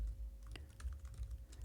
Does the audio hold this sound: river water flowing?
no